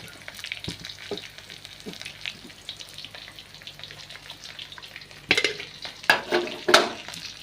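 Onion fries in oil in a pan with a constant close sizzle, then a few louder scraping stirs near the end; no one speaks.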